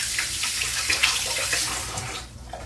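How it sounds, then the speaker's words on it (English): Tap water runs steadily into a kitchen sink as hands are rinsed, a close continuous splashing hiss with small bursts, tapering off near the end, no voices. "I'm going to rinse my hands real quick"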